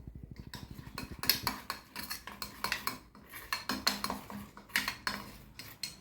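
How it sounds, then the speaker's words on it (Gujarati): A spoon stirs and scrapes through a mix of melted chocolate, almond powder, grated coconut and honey in a bowl, knocking against the sides in quick, uneven clinks with no one talking. "બરાબર મિક્સ કરી દેવાનું છે."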